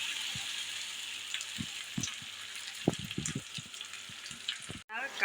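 Chunks of jackfruit and potato go into hot oil with well-fried spices for a vegetarian dish, and a steady sizzle hisses underneath. A few soft knocks and shifts sound as they settle, with a brief clatter near the end.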